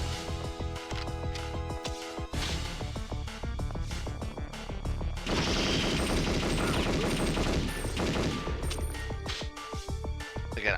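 A laptop gun in a video game fires in rapid, continuous bursts close up, with dense automatic shots running through nearly the whole stretch over game music.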